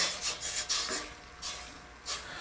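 Apple cider vinegar and brown sugar get stirred in a preheated pan with soft scraping, rasping strokes in an uneven rhythm, close but quiet, with no voice.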